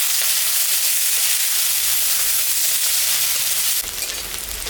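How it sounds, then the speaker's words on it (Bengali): Chopped onion sizzles in hot oil with cumin and bay leaf, added after frying fish, a loud, dense crackling hiss that holds steady and then softens slightly near the end, with no voices. "পেঁয়াজটা ভাজা ভাজা হয়ে গেছে"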